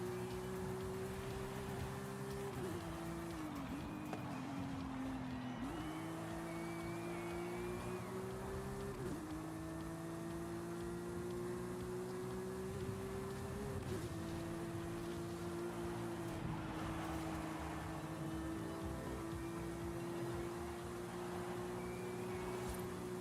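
Electric cars racing in a video game rivals event: a continuous, steady electric motor whine that dips and climbs in pitch as the car speeds up and slows, heard alone without talking.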